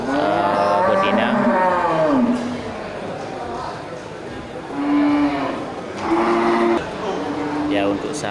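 Bali and Aceh cows, including breeding females, moo repeatedly in a busy livestock market, several long calls rising over steady crowd chatter and background bustle.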